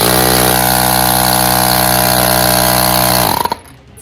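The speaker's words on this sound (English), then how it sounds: "then you press the pump" A portable motorcycle tyre pump runs with a loud, steady mechanical buzz close by, then spins down and stops near the end, leaving quiet room noise.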